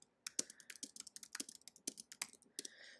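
Fingers tap quickly on a computer keyboard while text is entered into a Google Sheets cell, a close, crisp run of about twenty clicking keystrokes in an uneven rhythm, with no voice over them.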